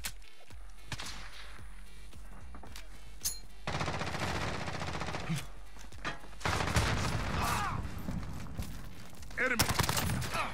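A Bizon submachine gun fires in Modern Warfare, rapid automatic bursts starting and stopping in loud, close strings, with other game sounds and someone talking in between.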